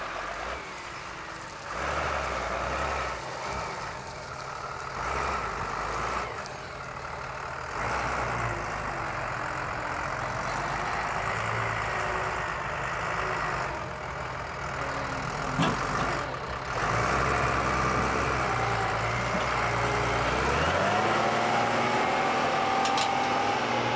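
A Fast Track haulage tractor's engine runs steadily with a low, continuous drone, rising slightly in pitch near the end, with no voices.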